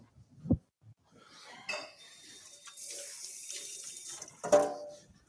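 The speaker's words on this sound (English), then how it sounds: "I'm gonna rinse my hands real quick" A kitchen tap runs as hands are rinsed, a soft steady trickle with a few clinks of dishes and utensils at the start and end.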